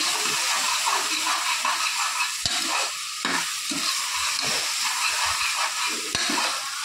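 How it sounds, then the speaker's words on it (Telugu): Tomatoes frying with ginger garlic paste in a hot pan give a steady, loud crackling sizzle with a few sharp clicks of a spoon stirring, close by and continuous without any talk. "సో టమాటాలు వేగుతూ ఉండగానే"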